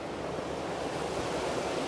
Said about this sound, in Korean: 이른 아침에 물소리를 들으니까 기분이 굉장히 상쾌합니다.